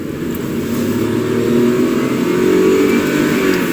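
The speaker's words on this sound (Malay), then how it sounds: "Dan apabila kita rev enjin ni, kita tekan minyak maksimum" A 2020 Nissan Almera 1.0-liter turbo three-cylinder engine held at full throttle, a steady sustained rev heard close and loud with no talking.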